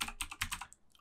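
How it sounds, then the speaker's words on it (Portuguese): A name is typed on a computer keyboard: a quick run of five or six sharp, close key clicks in an uneven rhythm, fading to a couple of lighter taps, with no speech. "E aí eu posso digitar o meu nome."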